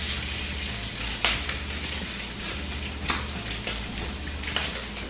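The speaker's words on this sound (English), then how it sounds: "I need to turn that far one up a little higher to get it to actually fry this bacon" Bacon frying in a pan on a stovetop, a steady close crackling sizzle with occasional sharper pops, heard alone without talk.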